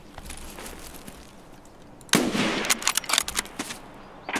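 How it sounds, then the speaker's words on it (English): Suppressed gunfire in Escape from Tarkov from another player's weapon arrives as a sharp first shot and then a ragged string of muffled, snapping rounds at mid distance. "That sounds like PMC, that's a suppressed, isn't it?"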